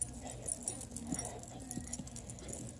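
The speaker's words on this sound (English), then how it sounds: "there he goes, barking at a golf cart" A dog barks at a passing golf cart outdoors, a few short sharp barks with jingling and rattling noise in the background.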